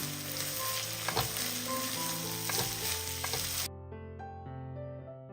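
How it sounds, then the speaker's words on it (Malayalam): Finely chopped onions fry and get stirred in a pan for an iftar snack, a dense steady sizzle with scraping stirs, close up, that cuts off abruptly to a quieter hum. "ഇതിലേക്ക് 3 സവാള ചെറുതായിട്ട് കട്ട് ചെയ്ത് ഇട്ട് കൊടുക്കുക."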